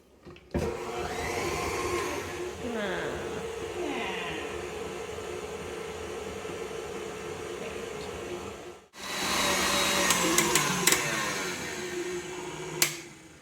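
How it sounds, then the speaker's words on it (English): An electric beater whirs steadily for several seconds as icing sugar is mixed into cream cheese and vanilla, then pauses briefly and restarts with louder rattling and scraping against the bowl. "I'm going to turn the beater on and I'm going to mix this icing sugar in with the cream cheese and the vanilla"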